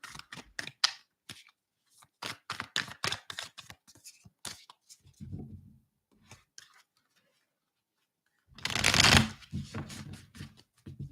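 Tarot cards shuffled by hand in a quiet room, with bursts of rapid riffling and flicking, short pauses between them, and one louder, denser riffle near the end.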